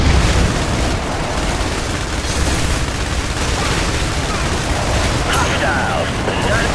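Airstrike explosions in the video game IS Defense rumble as a dense, continuous barrage of booms and blasts, loud and sustained throughout with no pause.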